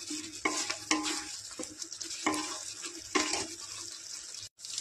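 Tomato masala for Bengali-style rajma being stirred and fried down in a pan, with repeated scraping strokes over a steady low sizzle at close range, with no talking.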